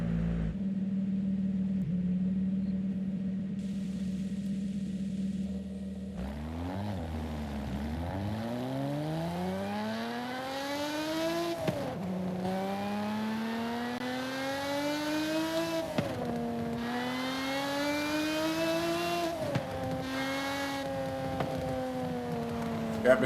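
A supercharged car engine in Forza Horizon 5 idles low, then revs hard and climbs through several gears, each upshift dropping the pitch before it rises again, loud and continuous with a faint whine over the engine note.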